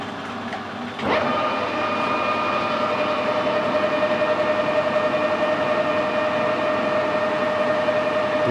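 A metal lathe spinning at 600 RPM while centre drilling the end of a workpiece starts up with a sudden rise into a steady, tonal whine and hum that holds evenly to the end.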